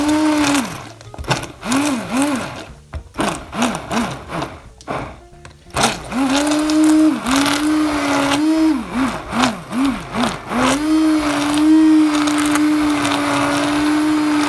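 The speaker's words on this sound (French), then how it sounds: "Dans ce mélange fond de volaille, fond de veau, j'y rajoute mes myrtilles et je vais les mixer" A blender blitzing blueberries in a blend of poultry and veal stock, its motor whirring in repeated pulsing bursts that rise and dip, then settling into a longer steady run, loud and close.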